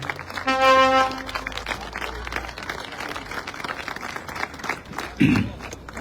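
A crowd applauds with sustained scattered clapping at a political rally, mixed with background voices, a brief tonal sound early on and a louder thump near the end.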